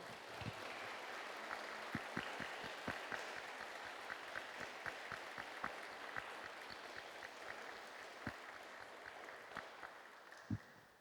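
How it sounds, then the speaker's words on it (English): Steady applause from an audience, dense clapping with a few louder individual claps standing out, continuing throughout. "A big round of applause."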